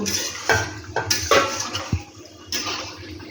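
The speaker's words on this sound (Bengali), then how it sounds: "আমি এখন ঢাকনাটা খুলতেছি। খুলে ডালের পকোড়াগুলা" A metal lid lifted off a cooking pot while making lentil pakora curry, giving a few clanks and scrapes with a brief clatter midway, close and moderately loud.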